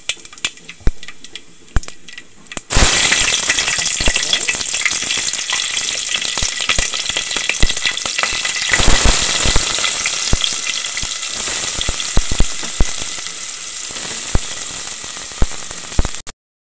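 Tempering spices, including fenugreek seeds, hit hot oil for a drumstick and egg pulusu. After a few quiet seconds of light clicks, a loud, crackling sizzle bursts in and carries on steadily before cutting off abruptly.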